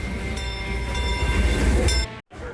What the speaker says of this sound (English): there's a train just in Frontierland now, and then another one approaching in Tomorrowland very close to Main Street.